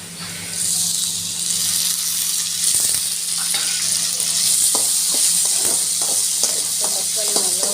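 Tomatoes frying with onions in a pan, stirred as they cook: a steady close sizzle with a bright hiss, punctuated by repeated scraping and tapping of the stirring utensil, with a voice speaking over it.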